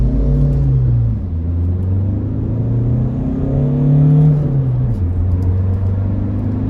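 A VW Caddy 2.0 with 185 hp pulls away, its engine rumbling loud and close as the revs climb and drop through gear changes, with no voices over it.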